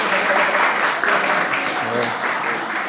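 A stand-up comedy show audience claps in a thick, continuous burst of applause, with crowd voices mixed into the noise for a few seconds.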